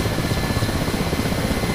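A Mi-8 helicopter in the DCS flight simulator gives off a loud, continuous rotor and engine roar with a dense, rumbling wash of noise.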